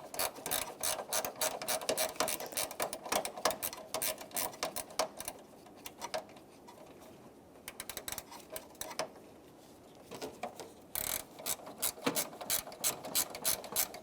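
A ratchet clicks in quick bursts as it tightens the hood latch bolts on a 2006-2013 Chevrolet Impala, rapid close pawl ticks with short pauses between strokes.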